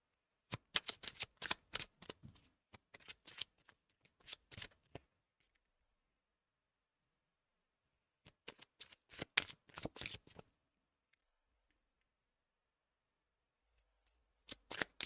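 Tarot cards being shuffled by hand in a quiet room, several crisp riffling bursts in two main clusters separated by silence, close and clear with no talking.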